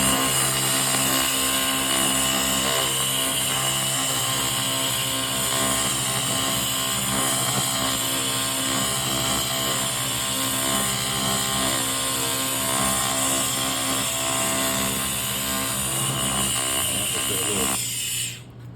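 A laser rust remover blasting rust off a cast iron piece at raised power, a steady loud buzzing drone with dense high whine that runs unbroken for nearly the whole stretch before cutting off at the end.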